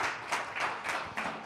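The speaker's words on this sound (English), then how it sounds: "Let's give Emmett Fox a big round of applause for that." An audience claps for a short burst of about four quick, evenly spaced claps, moderately faint and with no voices.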